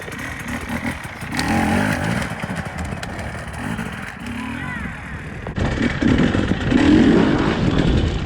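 An off-road motorcycle engine growls and rises in pitch as the clutch is let out, loud and close, with a harder surge of acceleration partway through.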